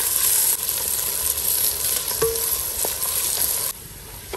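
Sliced onions fry with bay leaf, cinnamon, star anise, fennel, cardamom and cloves in a pan for bamboo chicken biryani, a steady close sizzle broken by a few stirring clinks before the hiss drops lower near the end.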